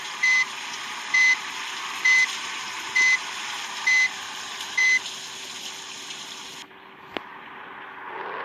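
A large sand-loaded lorry in the Bus Simulator Indonesia game reverses with six evenly spaced warning beeps over a steady engine hum, which then drops off before a sharp click.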